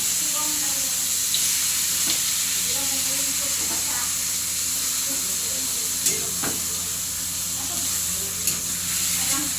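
Squid sautéing with garlic in a hot pan over high heat, a constant bright sizzle and hiss throughout with occasional sharp pops and stirring clatters, close and loud, with faint background voices.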